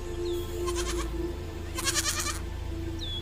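A wild mountain goat gives two short, nasal bleats, about a second apart, over a steady low background hum, with no voices.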